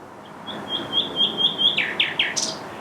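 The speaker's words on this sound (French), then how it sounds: "Le rossignol est revenu de son long voyage en Afrique." A nightingale sings a short phrase of repeated high chirps, then quick descending whistled notes, fairly close against quiet background.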